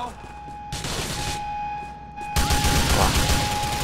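Gunfire from the video game GTA 4: The Lost and Damned hitting the player: dense, continuous shooting with a steady electronic tone underneath, growing louder in the second half, mixed with in-game voices.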